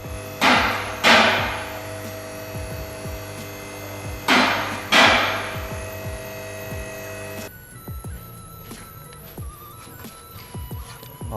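Loose part on a rusty, partly rotten ship clatters in two pairs of sharp metallic knocks over a steady electrical hum, followed by faint scattered ticks.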